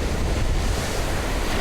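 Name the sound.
Atlantic Ocean waves near lighthouse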